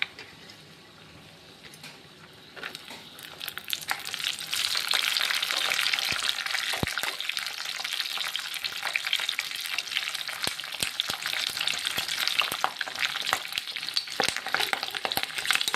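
Tempering ingredients for pulihora fry in a pan, starting quiet and rising into a loud, steady sizzle with crackles and pops, and occasional clicks as the mix is stirred; no talking.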